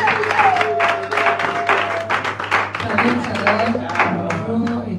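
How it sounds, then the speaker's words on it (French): Church congregation applauding at a worship service to welcome an evangelist, steady clapping throughout with a sustained tone underneath and voices mixed in. "Sous vos applaudissements, s'il vous plaît."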